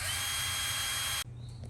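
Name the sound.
drill drilling and tapping a metal water pump part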